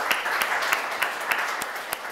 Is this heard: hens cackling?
no